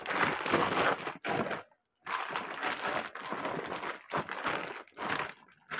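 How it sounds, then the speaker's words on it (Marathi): Warm rice flour dough is kneaded by hand for papad, giving repeated soft, squelching and crinkly pressing strokes in close, uneven bursts with brief pauses between them. "त्याच्यामध्ये पीठ मळायला घेतले मी"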